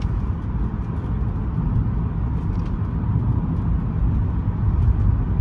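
Inside a 1985 Mercedes-Benz 380SE on the move, a smooth, steady low road and engine rumble fills the cabin at an even level with no talk, quiet and unchanging throughout.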